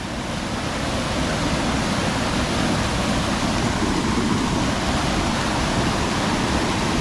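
Anachadikuthu waterfall roars with steady, loud rushing water, a dense unbroken wash of noise from close range with no other sounds standing out.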